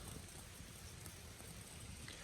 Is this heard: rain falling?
yes